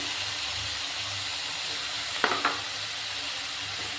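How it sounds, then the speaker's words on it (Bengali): Prawns fry in hot oil with a pinch of salt, giving a steady close sizzle and hiss throughout. Brief louder crackles and spatters come near the middle as the pieces shift in the pan. "এখন এখানে আমি চিংড়ি মাছগুলো দিয়ে দেবো।"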